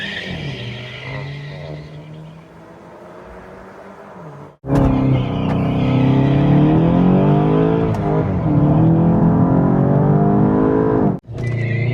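Two hot hatches, a VW Golf 8 GTI and a Hyundai i30N, drag racing: loud, close engine roar with rising revs and gear-change dips, a sharp cut near the middle, then sustained hard acceleration before a brief drop at the end.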